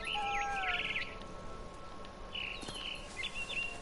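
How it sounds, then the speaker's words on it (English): A barn swallow from the game What Remains of Edith Finch chirps in quick twittering phrases, bright and fairly close, with a second burst of calls later over soft ambient rustling. "Then I heard chirping outside my window. It was a barn swallow going back to her nest."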